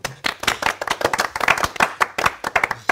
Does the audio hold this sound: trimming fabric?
no